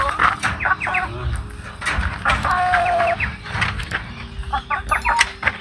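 Chickens and a rooster clucking and chattering in short repeated calls, close by, with faint background noise and occasional voices.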